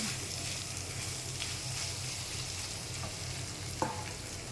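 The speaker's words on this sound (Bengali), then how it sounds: "পেঁয়াজ রসুন কলার সাথে ভাজা হয়ে গেছে।" Onion, garlic, ginger and banana fry in a pan with a steady, quiet sizzle and hiss, broken by a faint clink of a utensil near the end.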